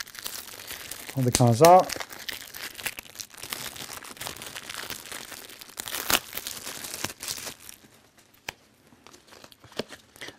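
A Darkest Night game card deck is unwrapped with close, crisp crinkling and tearing of plastic, loudest in an early burst and then in scattered rustles, while someone talks throughout.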